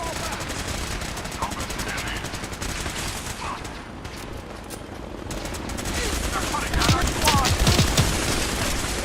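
Rapid automatic gunfire in the video game Fallout 4, a steady loud fusillade of shots that intensifies toward the end, with voices calling out over the combat.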